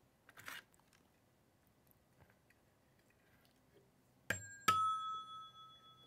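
The bells of an old rotary telephone are struck twice in quick succession, a bright ding then a second tone that rings on and slowly fades, after a few faint handling clicks in a quiet workshop.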